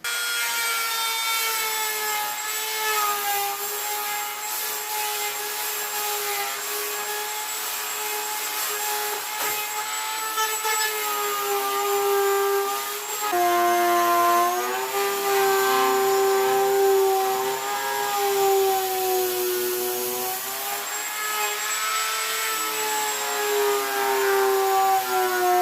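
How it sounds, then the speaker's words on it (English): A Dremel rotary tool grinds steadily against a coyote mount form, a sustained whining drone with harmonic pitch that dips and rises as pressure changes, close and loud with no talking. "I'll Dremel it down here where this extension will go down deeper"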